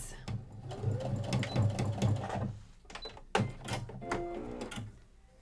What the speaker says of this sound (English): I'm going to sew forward right to the end at 5/8